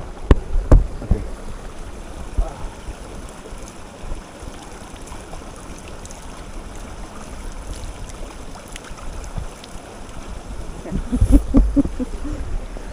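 Cold water running down from the mountains in a remote Romanian village, a steady rushing flow close by with louder splashing and disturbances near the start and end.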